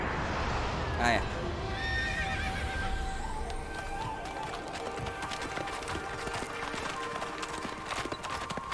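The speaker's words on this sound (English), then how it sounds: "A horse?" A horse neighs in the Okami HD video game, with a sharp whinny near the start, then steady galloping hoofbeats continue under game music and wind, with speech present.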